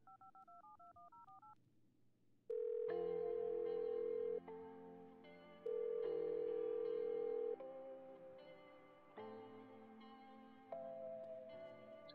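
Phone call in GTA San Andreas Multiplayer: a rapid burst of touch-tone dialing beeps, a short pause, then a series of long, loud ringing and connection tones with no voices present.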